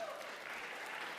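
Brief, faint applause from an audience at a talk on faith and sexuality, a soft continuous patter of clapping lasting just over a second.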